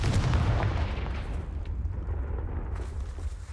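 Confringo explosive spell cast in the Hogwarts Legacy video game, a loud booming blast with rumbling debris that fades over a few seconds.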